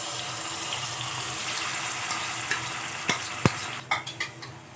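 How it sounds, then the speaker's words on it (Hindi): Two to three tablespoons of water hiss into a hot frying pan with a steady sizzle, followed by a few sharp clinks and bubbling bursts near the end. "पानी फ्राई पैन में डाल लेंगे, 2 से 3 टेबल स्पून लेंगे, गर्म होने देंगे।"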